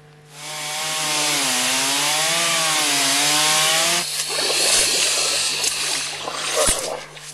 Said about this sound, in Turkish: Motorlu testerelerle kalınlığı yarım metreyi aşan buzlar kesilip büyük bir delik açılıyor